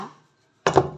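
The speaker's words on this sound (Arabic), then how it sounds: "اهبطها طبعا جامد بحيث ان هي يعني تطلع الفقاعات بتاعتها" An oiled metal cake tray filled with chocolate cake batter is banged down hard on a surface to knock out air bubbles. A faint knock fades out, then after a silence come a loud, sharp clattering impact and a brief second hit.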